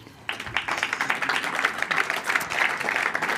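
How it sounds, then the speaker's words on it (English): An audience at a live-streamed demo day event applauds as a presenter is called on stage, steady dense clapping starting abruptly and holding at full strength for several seconds. "Applause for Carolyn."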